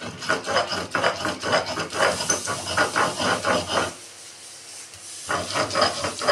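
Rhythmic scraping and rasping of stone grinding Bengal arum (ghatkol) leaves into paste, repeated strokes that pause briefly before resuming, close and steady.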